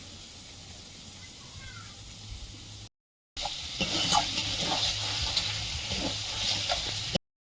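Spiced curry stirred in a pan with wet, sizzling scrapes, broken by a brief silent gap and then louder, busier stirring.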